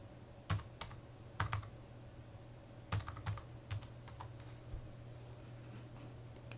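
Keys tapped on a computer keyboard in short bursts of several quick clicks separated by pauses, close but soft, over a faint steady hum, no voices.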